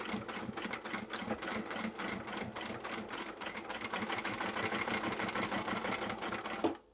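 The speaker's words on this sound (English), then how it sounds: "Over the seam I'll triple stitch." A sewing machine runs in a fast, steady rhythmic chatter while triple stitching over the seam of a boxed upholstery fabric bag, close and continuous until it stops abruptly at the end.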